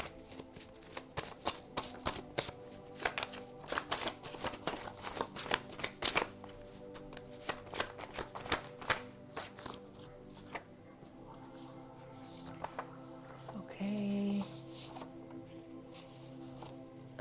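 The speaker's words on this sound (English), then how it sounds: "I'm going to switch over to the card deck" A deck of tarot-style cards is shuffled close by in a run of quick riffling bursts and taps, then quieter handling and soft rustling as the shuffling trails off.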